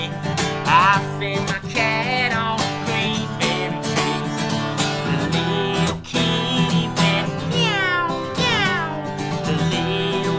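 A voice imitates a cat with sung meows in a children's barnyard song, the meows repeated over guitar and music, close and prominent, alternating with sung verse lines.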